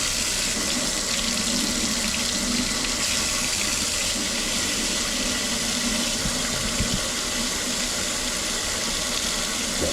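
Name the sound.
hot water running from a kitchen tap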